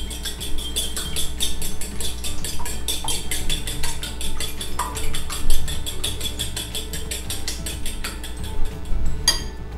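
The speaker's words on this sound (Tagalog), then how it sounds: "haluin lang natin yung ating itlog" Raw egg is stirred into a potato mixture for egg potato balls. A utensil scrapes and taps against the bowl in a rapid, steady rhythm of light clicks, with no one talking over it.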